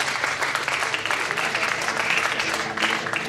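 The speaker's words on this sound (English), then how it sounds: "Give me a round of applause." Audience applause at a DJ trade show seminar on video mixing, a steady, fairly close burst of clapping from a seated crowd lasting a few seconds.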